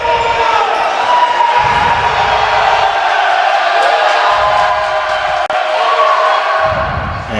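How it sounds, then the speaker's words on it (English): A loud basketball crowd at a women's college game between Eureka and Knox roars and jeers continuously to rattle a free throw shooter, a dense, sustained wall of voices with swelling peaks. "the crowd getting into it as they did their best to distract her at the free throw line"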